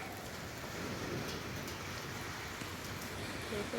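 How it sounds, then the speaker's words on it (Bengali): Heavy rain pours down steadily as a dense, continuous hiss with faint pattering, constant in level and heard from nearby. "বাও, জোর বৃষ্টি আসলো দেখো।"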